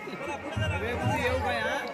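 Close crowd chatter at a village Gondhal festival for Shri Aai Bhagwati Devi in Ambrad, with several voices talking over one another in a busy, steady babble.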